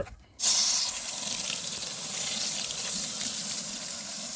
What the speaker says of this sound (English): Put some more water inside.